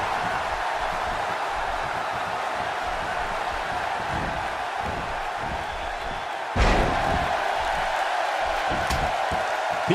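Wrestling arena crowd in the video game WWE 2K16, a steady loud roar of cheering throughout, with a sharp slam-like hit and a brief surge near the end.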